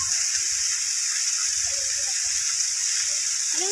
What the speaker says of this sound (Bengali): জলটা কোথা থেকে পড়ছে দেখো।